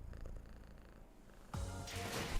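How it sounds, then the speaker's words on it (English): A female cat's low, steady purr rumbles quietly while she is scratched on the chin, and a louder, brighter burst of other sound overlaps the second half. "I hope you guys can hear her purring."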